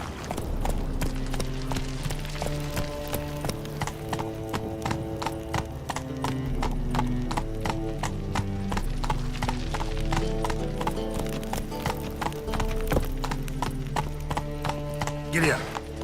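Horse hooves clip-clop in a steady, rapid rhythm in The Witcher 3 video game, loud and close throughout, with a neigh and occasional voices speaking over the hoofbeats.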